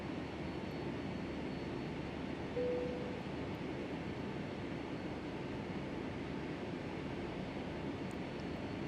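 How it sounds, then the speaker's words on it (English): Steady, even rumble of a Boeing 757-300 in Microsoft Flight Simulator X while it pushes back, a continuous engine drone without talking. "Parking brake coming off. Let's go ahead and push back."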